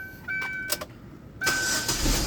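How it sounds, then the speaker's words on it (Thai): A used four-door automatic car with gas conversion starting up: a brief whine, a couple of short cranks, then the engine catches and settles into a quiet idle nearby. "เห็นปะบิดปุ๊บก็ติดปับ๊บนี่เครื่องทำงานแล้วเนี่ย"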